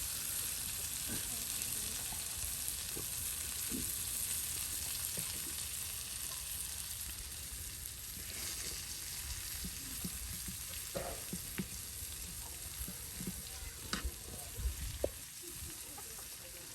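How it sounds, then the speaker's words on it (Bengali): Chopped onion and chili frying together with tilapia fish in a village kitchen, a steady loud sizzle with scattered stirring clicks and scrapes, faint voices in the background. "মরিচ কুচি সব কিন্তু আর এই যে একসাথে এই ভেজে নেওয়ার জন্য দিয়ে দেওয়া হলো।"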